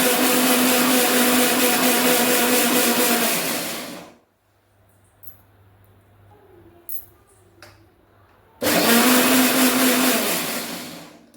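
An electric beater whips room-temperature eggs for a ragi cake batter, a loud steady whirring that cuts off for about four seconds of quiet with small clicks, then starts up again at full strength.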